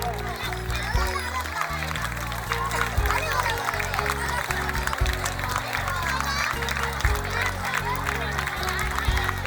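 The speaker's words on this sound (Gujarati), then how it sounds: "તાળીઓ તો ચાલુ થવી જોઈએ" An audience at a girls' high school annual function claps in a dense, continuous patter beneath loud amplified talk and background music, with crowd noise mixed in.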